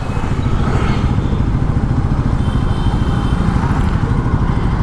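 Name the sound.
Yamaha MT-15 V2 motorcycle being ridden and parked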